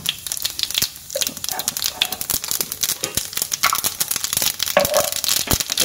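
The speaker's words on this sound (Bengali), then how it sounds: "সেটা দেখো চড়বড় করে ফুটছে।" Whole cumin and mustard seeds sputter in hot oil in a kadai, a dense, close, continuous crackle of rapid pops and snaps.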